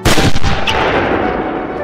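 A single loud gunshot cracks sharply and then rolls away in a long, fading echo.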